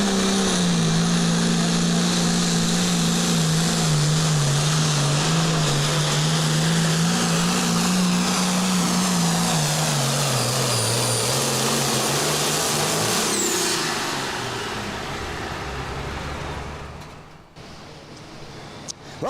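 A pulling tractor roars at full throttle during a county fair tractor pull, a loud sustained engine drone that slowly drops in pitch before fading and cutting off near the end.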